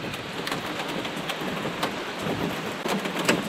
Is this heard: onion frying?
no